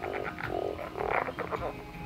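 A small green spotty frog croaks in a repeated series of raspy, pulsing calls, fairly close and steady, with dense natural background sound around it and no voices.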